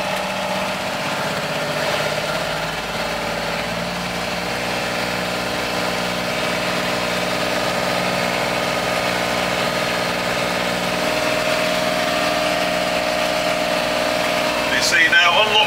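Ford TW25 tractor engine running steadily as the tractor moves off, a close, low diesel drone with engine harmonics, someone talking over it and a brief rattle near the end.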